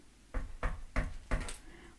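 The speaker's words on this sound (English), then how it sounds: "I think there's someone at the door." Four evenly spaced knocks at a door, sharp and fairly close, sounding alone in a quiet room.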